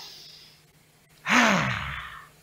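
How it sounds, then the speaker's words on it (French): A single deep breath is drawn in sharply and loudly close by, then let out as a long airy sigh that slowly fades. "Prends une bonne respiration."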